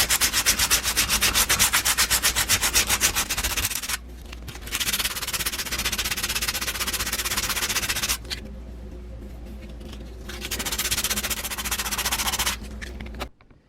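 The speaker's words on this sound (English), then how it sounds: "Followed by some sandpaper." Sandpaper scrubs a tire rim in quick, rhythmic back-and-forth strokes, coming in several close bursts separated by short pauses.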